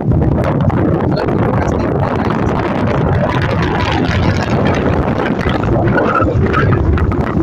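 Strong wind roars and buffets the microphone without a break, a loud, dense rush that fills the whole stretch with no voices.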